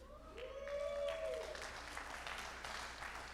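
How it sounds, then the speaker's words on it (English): Quieter crowd applause at an environmental justice symposium keynote, a gliding tone at the start giving way to a soft, steady bed of clapping. "another round of applause specifically for Yan"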